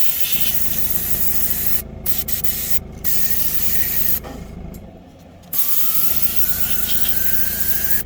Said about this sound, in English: I just spray out whatever paint is left in the brush.